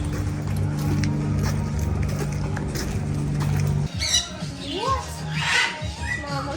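A pet bird lets out sharp squawks and calls in a shop, heard in the second half of the clip after steady store background hum, with people talking nearby.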